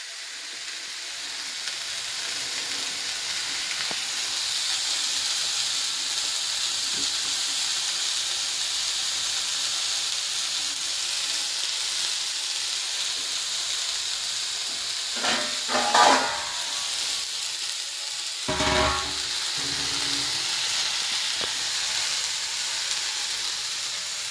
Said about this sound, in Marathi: आता कांदा पूर्ण लाल होऊपर्यंत आपल्याला भाजायचं